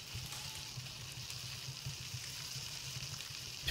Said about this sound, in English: I love the sound of cooking